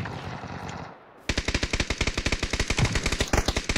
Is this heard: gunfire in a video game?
yes